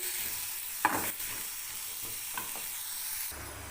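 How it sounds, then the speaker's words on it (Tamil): Tomatoes sautéing in a pan for chutney, a soft, fairly quiet sizzle with a few scraping stirs near the start and middle. "தக்காளி கொஞ்சம் அப்படியே வதங்கட்டும்"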